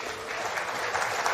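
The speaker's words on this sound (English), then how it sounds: "Let's give him a round of applause." A crowd at a World Cup of Pool quarter final between Chinese Taipei and Netherlands gives a brief burst of applause, dense and moderately loud.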